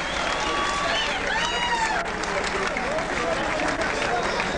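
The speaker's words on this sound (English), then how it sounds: "how about a nice round of applause for Cecil Country Boy Coffey?" Boxing crowd applauding fighter Cecil "Country Boy" Coffey after his bout with Seamus McDonagh, a dense steady wash of clapping and crowd noise with a commentator's voice running over it.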